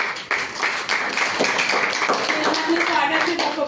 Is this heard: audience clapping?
yes